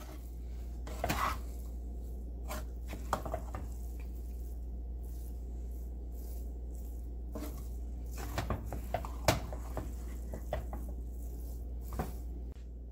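Leftover cooked rice being mixed with tamarind in a pan for chitranna, a steady soft scraping and squishing with scattered sharper clinks of spoon on metal, close and moderately quiet, no talking.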